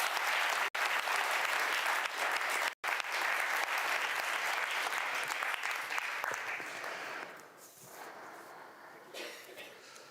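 Applause from the audience at the EUSALP Annual Forum 2021 launch, dense sustained clapping close and loud that thins and fades toward the end.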